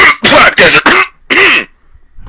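A series of loud, close coughs, four quick harsh bursts followed by a longer one, then near silence.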